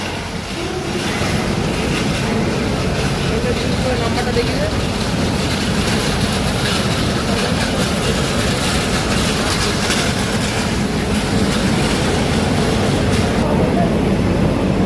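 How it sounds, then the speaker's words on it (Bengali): Vishwabharati Fast Passenger train pulling into a station platform, a steady loud rumble and rush of wheels and carriages continuing throughout, with station noise and a voice speaking over it. "আমাদের ট্রেন অলরেডি ঢুকছে এখন"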